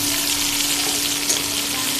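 Garlic-ginger paste with green chilli sizzles in hot oil with browned onions for a spinach and potato curry, a steady, loud, dense crackle with no pause or voices.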